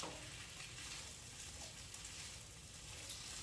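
Onions fry in a pan for French onion soup, giving a soft, even, continuous sizzle close by with faint stirring and no speech.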